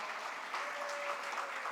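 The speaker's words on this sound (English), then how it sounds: "give them a round of applause" Applause for the organizers at the close of a global community forum panel in Chicago: soft, distant clapping from a small audience, brief and even.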